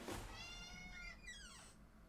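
A domestic cat gives a drawn-out meow that rises and then falls away in pitch. The call sounds close but fairly quiet, and no one speaks over it.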